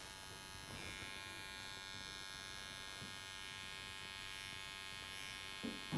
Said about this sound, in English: So we're going to shave up to just below the hairline.